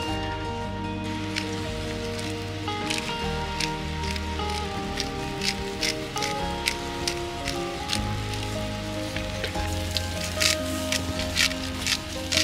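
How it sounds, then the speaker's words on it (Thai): Wind and rain lash steadily outside a rural countryside house, a continuous dense patter heard from indoors with no pauses and no talk. "ตอนนี้มันลมเนาะลมทั้งฝนจ้ะ"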